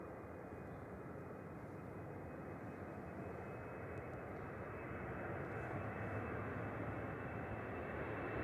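An Eastern Airways airplane passes at Manchester Airport, its engines a broad, steady roar that holds throughout and grows slightly stronger toward the end, with no talk.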